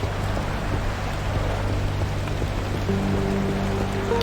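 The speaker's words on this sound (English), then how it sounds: "in the middle of all this rain" Steady rain pours across the open world of the video game Pacific Drive, a dense continuous wash of drops with a low hum beneath and no voices.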